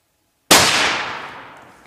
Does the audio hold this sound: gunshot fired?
yes